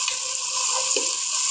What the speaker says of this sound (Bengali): পেঁয়াজটা ভালোভাবে নাড়াচাড়া দিতে হবে